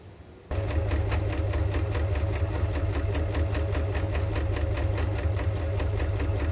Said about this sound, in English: now I'm going to sew down there as well